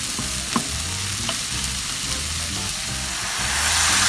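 Vietnamese egg noodles stir-frying with garlic in a pan, a dense steady sizzle with rhythmic stirring and tossing, close and loud, growing slightly louder near the end.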